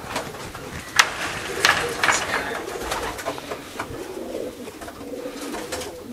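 Racing pigeons in a loft in Atlanta, Georgia, cooing close by in soft repeated calls, with wing flutters and scattered background voices of people talking.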